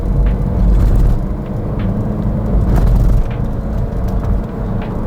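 A car accelerates on a test drive after a CVT transmission overhaul, following a nearly broken CVT belt. A loud, close, low rumbling engine and road noise build steadily with no voices.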